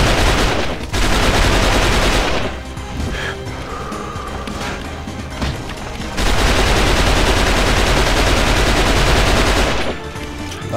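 Dense machine gun fire rattles loudly in long sustained bursts, broken by a brief lull of scattered shots and crashes, in the video game XIII.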